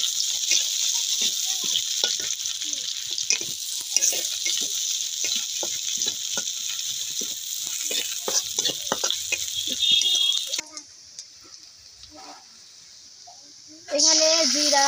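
Tuna fish and onion frying in a hot pan, a steady loud sizzle with stirring clatter that cuts out near the end, then sizzle returns briefly.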